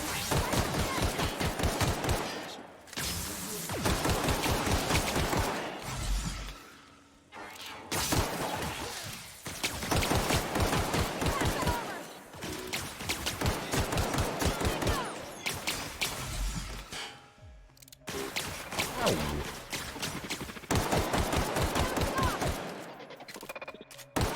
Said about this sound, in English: now we are shooting